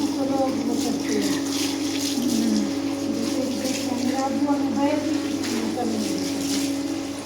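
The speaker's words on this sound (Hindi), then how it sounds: "इन पौधों में डाल ले पानी।" Water runs and splashes steadily while plants are watered at home, a continuous trickling wash heard under nearby conversation.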